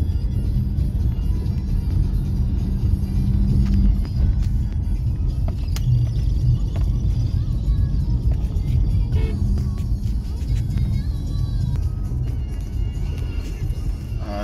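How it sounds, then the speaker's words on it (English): A truck rumbles along a road near the West Bank Demerara in Guyana, a continuous low engine and tyre drone heard from inside a moving vehicle, with occasional voices in the background. "There's the other truck on your right here now."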